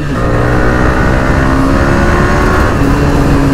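A car out on an evening ride gives a loud, continuous engine and road drone that holds steady and close throughout, with no other sounds rising above it.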